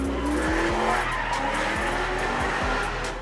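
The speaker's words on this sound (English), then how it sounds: "So FMF sent us a pair of their biggest 450 mufflers, and literally it works and it sounds wicked." A Subaru Brat at Holley LS Fest roars loudly up close through a pair of large FMF 450 mufflers, a continuous harsh engine blare with skidding tire squeal and no talking.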